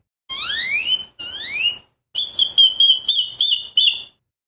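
A boy imitates the call of a great-tailed grackle. He gives two long, rising, shrill whistles, then a rapid run of piercing, clipped chirps, loud, close and with no other sound.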